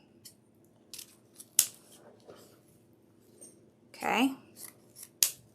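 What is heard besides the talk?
scissors trimming ribbon tail for a wreath bow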